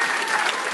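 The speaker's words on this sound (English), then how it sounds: "what you can hear in the background there is the applause for the final announcement of the self-nomination categories" Crowd clapping at a business awards ceremony, a brief dense burst of applause heard from a distance in the background.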